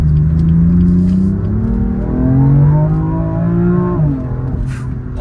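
A 2020 BMW M4 Heritage Edition engine revs hard under acceleration, a loud close rising and falling drone with a brief dip as traction slips, then the engine note climbs again.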